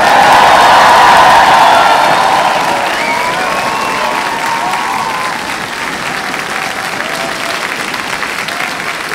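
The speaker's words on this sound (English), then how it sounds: "That's a proper round of applause." A large graduation audience at a university winter ceremony breaks into loud applause with cheering and whoops. Bright shouts ring out at first, then the sound eases into sustained clapping that gradually fades.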